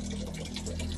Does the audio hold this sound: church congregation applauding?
no